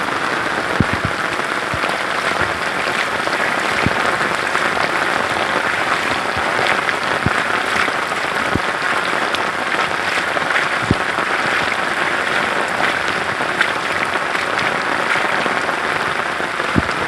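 Heavy evening rain in the Konkan countryside near Ratnagiri pours down steadily in a dense, loud hiss that sounds almost like applause, with occasional sharper drops and no voices.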